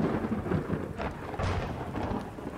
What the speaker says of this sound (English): Was that lightning I heard?